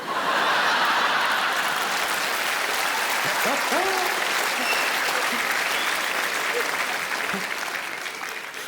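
A comedy show audience breaks into loud, steady applause, with scattered chuckles and laughter rising through the clapping before it slowly tapers off.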